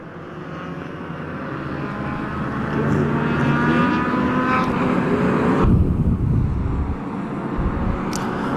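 Race cars at the 24 Hours of LeMons roaring wide open down the front straightaway at New Hampshire Motor Speedway, loud engines building and passing close with overlapping Doppler sweeps and no talk.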